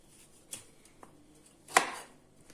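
A few sharp knife cuts on a cutting board while separating broccoli florets, with one louder chop near the end and quiet pauses in between.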